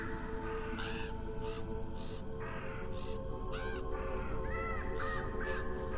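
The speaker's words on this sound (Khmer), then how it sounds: "ក៏មានសំឡេងសត្វក្អែកស្រែកនិងផ្អើលហើរចេញពីព្រៃឫស្សី" Crows in a bamboo forest caw repeatedly in short, harsh bursts at an irregular pace, some nearer and some farther, over a steady low background hum.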